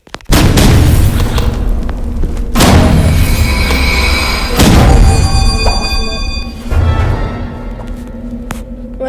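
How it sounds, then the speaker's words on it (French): A grenade blast in the shooter game Rivals booms loudly, followed by more heavy explosive thuds and rumbling in-game combat that carries on throughout, with no talking. "il m'a lancé une grenade"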